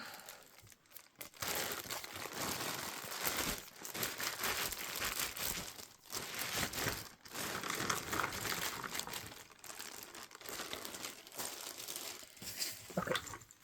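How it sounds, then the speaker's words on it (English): Cardboard and plastic packaging of a Reverie puzzle box crinkle and rustle continuously as it is handled and opened up close, with a few brief dips and sharper crunches, no talking. "Let me grab the box here."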